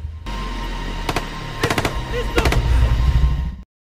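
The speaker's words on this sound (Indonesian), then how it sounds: "tiba-tiba terjadi baku tembak di lokasi" Gunfire in a Fantasy Island film scene: several sharp bursts of shots, near and loud, in quick clusters over a low rumbling background, ending abruptly.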